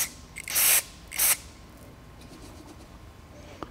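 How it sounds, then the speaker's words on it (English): Brake cleaner sprayed onto a MAP sensor bracket from a 6.7L Powerstroke engine, in two short hissing bursts close by, followed by quiet handling and a faint click. "we're gonna go ahead and clean it out with some brake cleaner"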